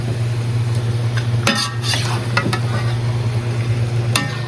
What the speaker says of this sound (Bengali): এটা একটু নাড়া দিই, এটাকে একটু নাড়া দিই।